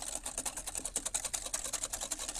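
A whisk beats cake batter mixed with oil in a bowl, making a quick, even run of light clicking strokes. The sound is close and fairly quiet, with no talk.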